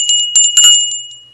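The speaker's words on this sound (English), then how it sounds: "I've been trying to find a bell for a while, and this one is the one that sounds the best." A small bell rings with bright, clear tones, struck a few times in quick succession before it fades out over about a second, loud and close with nothing else heard.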